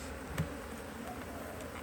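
Agitated honey bees drone in a constant, close buzz while a hive is opened for an early spring inspection, with one brief bump standing out against the steady hum.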